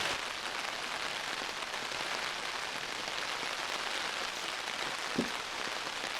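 Rain pouring down steadily during a baseball tournament game, a dense constant hiss of drops on surfaces with one brief tap near the end, no voices.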